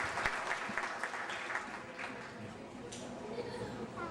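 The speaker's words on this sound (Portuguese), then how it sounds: "Vamos aplaudir a esposa dela." Faint audience applause welcoming a guest at a church gathering, soft continuous clapping heard from a distance with some background murmur.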